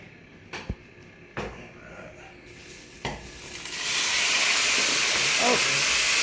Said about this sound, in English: They can simmer in the sauce.